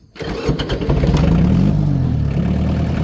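A 30-year-old Daedong 35 hp tractor engine fires up and settles into a loud, steady diesel rumble, heard close and alone with a rough low throb.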